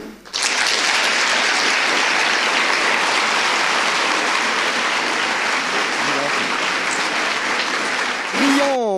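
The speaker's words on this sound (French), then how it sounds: "Je vous demande d'applaudir le gagnant de l'an dernier" An audience at an evening final of a pleading competition breaks into dense, sustained applause for the previous year's winner, loud and even throughout, tapering only in the last moment.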